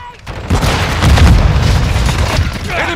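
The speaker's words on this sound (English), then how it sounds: "Throwing that grenade." A grenade goes off in the Call of Duty: Modern Warfare 2 game with a loud, deep boom, followed by rumbling blast noise. Faint game voices and gunfire sit under it.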